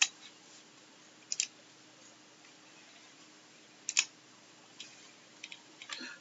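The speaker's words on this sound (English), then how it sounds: "let's click on begin installation" Sharp computer mouse clicks during a CentOS 7 installation in VirtualBox, two double clicks near the start, then a few lighter single clicks spaced apart over a quiet background hum.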